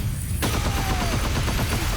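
Clive Rosfield's unibeam attack in Tekken 8 roars as a sustained, loud energy blast with a dense rattling, fusillade-like texture, steady and close throughout without speech.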